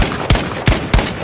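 Gunfire in an online shooter game, three sharp close shots in quick uneven succession, loud with short booming tails.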